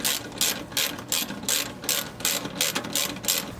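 A ratchet fitted with a 10mm socket loosens the airbox bolts on a Beaver Dam long-tail mud motor kit, giving close, rapid clicking bursts in an even rhythm of about eight strokes.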